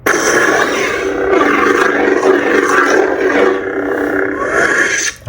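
Coda sound font playing on a neopixel lightsaber with a Proffie board, a steady loud roaring hum with swelling textured swings, continuous and close for about five seconds, then cutting off abruptly at the end.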